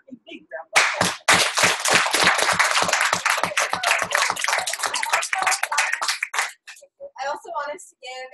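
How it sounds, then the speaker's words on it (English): Audience applause at a community gathering, a small group clapping in distinct, sharp, fairly close hand claps that run for several seconds and then thin out, with brief voices at the end. "give her a big round of applause"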